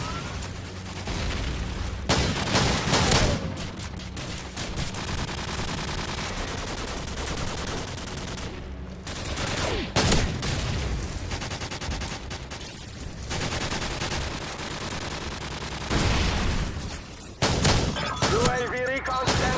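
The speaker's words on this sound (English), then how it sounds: "Friendly airstrike on the way." Call of Duty 4 battle with an incoming airstrike: continuous loud gunfire and heavy explosive booms recur throughout, with sharp bursts and crashes rising over a dense, unbroken combat roar.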